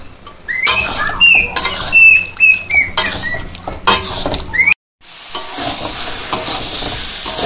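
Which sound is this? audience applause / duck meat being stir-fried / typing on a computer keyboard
duck meat being stir-fried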